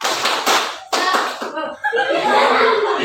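A school class does a rhythmic clapping chant, bursts of clapping in a patterned beat mixed with children's chanting voices and some laughter.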